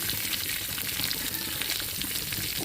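Spices sizzle and fry in hot oil for a green tomato chutney, a dense, steady crackle held close and loud with no pause throughout.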